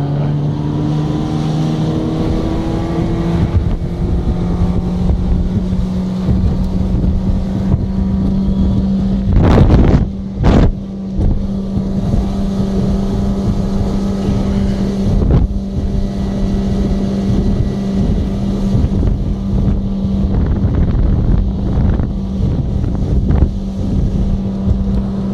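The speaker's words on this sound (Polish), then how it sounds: "który nam pożyczył tą motorówkę." Motorboat running on water, a continuous loud engine drone with wind buffeting the microphone and a couple of sharp gusts or bumps near the middle.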